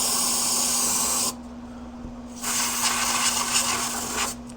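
Cleaner sprays from an aerosol can onto parts of a Polaris Hawkeye 4x4 ATV, close and hissing in two steady bursts separated by a short pause, with a faint constant hum underneath and no talking.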